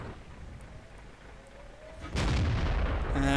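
A tank cannon fires in a video game, a single heavy boom about two seconds in over a steady engine rumble, loud and close, followed by a sustained roar.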